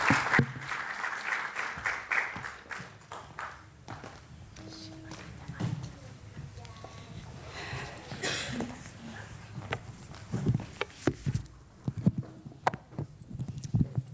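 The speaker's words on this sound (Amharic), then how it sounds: "በሞቅ ባለ ጭብጨባ ባካችሁ እንኳን ደህና መጣሽ በላ" A church ministry congregation claps warmly to welcome a female preacher to the stage, a dense burst of applause that swells at the start and thins into scattered claps and murmurs.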